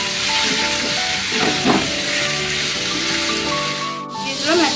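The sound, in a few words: boiled banana flowers stirred in a hot wok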